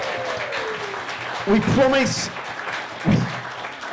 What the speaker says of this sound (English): Special round of applause for those two.